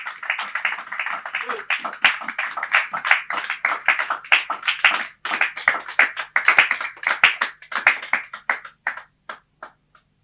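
A church congregation claps loudly in unison, sharp rhythmic hand claps continuing for several seconds before thinning out to a few scattered claps, with voices faintly present beneath.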